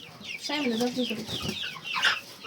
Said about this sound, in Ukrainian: В основному тут все півні, пару курочок є.